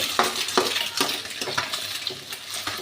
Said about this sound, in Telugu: ఇప్పుడైతే మనం కొంచెం ఎగ్ని కదిలించుకుందాం